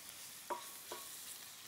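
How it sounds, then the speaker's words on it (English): Moose meat seared in a pan with a pinch of sugar and flour, stirred and scraped twice in quick strokes over a faint, steady sizzle, quiet and close with no talking. "give it a stir"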